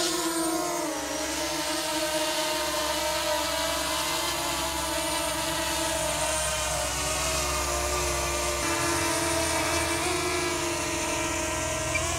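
Consumer camera drone in a garden, its motors spinning up and buzzing steadily in flight, a continuous high whine with shifting tones, close and loud throughout with no talking.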